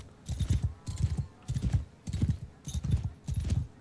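Horse hooves in the medieval video game Mount & Blade Bannerlord, a steady rhythmic clip-clop of a horse walking, with about seven evenly spaced hoof clusters at moderate volume and no talking.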